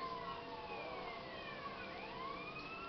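A police car siren in GTA wails continuously, its rising and falling tones overlapping, loud and steady with engine noise beneath and no talk.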